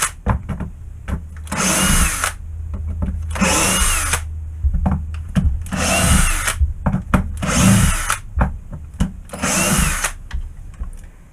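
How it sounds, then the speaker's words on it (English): A power driver backs screws out of MDF in five long whirring bursts, each about a second long. Short clicks and knocks fall between the bursts, all close and loud. "gonna get the trusty driver out and just take all these out"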